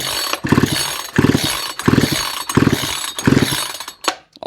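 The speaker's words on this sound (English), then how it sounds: "leave the machine in off, choke off and pull on it a few times to get the excess fuel out of the cylinder" A flooded Hyper Tough chainsaw, switched off with the choke off, has its starter cord pulled five times in a steady rhythm. Each pull gives a loud, close ratcheting whir, with brief gaps between pulls.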